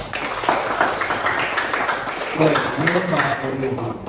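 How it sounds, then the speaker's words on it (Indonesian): A classroom of students applauds a classmate: a steady wash of clapping under a teacher's voice, with talk rising toward the end. "Tepuk tangan buat Arif."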